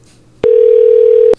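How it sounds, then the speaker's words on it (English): A telephone dial tone on a call back to a phone scammer: a single steady, loud tone holds for about a second, opened and closed by sharp line clicks. "I'm gonna call him back and see."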